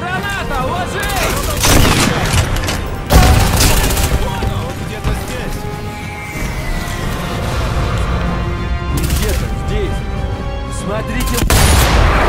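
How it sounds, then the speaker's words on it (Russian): Explosions and gunfire from the video game Sniper Elite V2, with loud booms and rattling shots layered over dense battle noise, and voices shouting through the mix. "Граната, ложи!"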